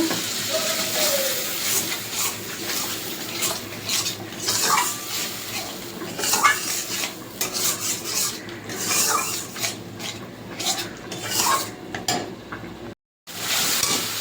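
Ground spice paste of coriander and red chili, stone-ground on a sil, being fried and stirred with a splash of water for a Bengali amudi fish curry, giving a steady close scraping, rasping sizzle with clinks of utensils against the pan throughout.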